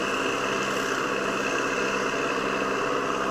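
Caterpillar 527 skidder with a 4-cylinder, 166-horsepower engine idling, a steady even rumble with constant vibration and no change in pace.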